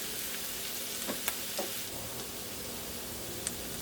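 Onions sizzle and fry steadily in a pan for stuffed pasta shells, a dense constant crackle with a few small sharp clicks and pops.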